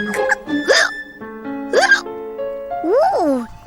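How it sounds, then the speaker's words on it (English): A cartoon child's hiccups sound in quick, voiced gulps, several spaced across a few seconds, each a sharp squeaky catch mixed with short vocal sounds. "Ooh, excuse me. I've got hiccups."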